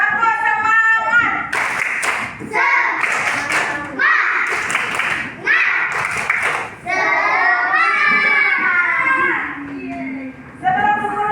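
Schoolchildren in a classroom perform a rhythmic clapping chant, sharp bursts of hand claps alternating with children's voices chanting in unison and a teacher's voice between.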